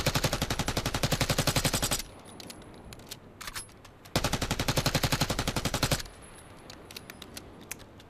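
Jackal PDW submachine gun in Black Ops 6, fired in two long full-auto bursts of rapid, evenly spaced shots about two seconds each, loud and close, separated by a quieter pause with small mechanical clicks.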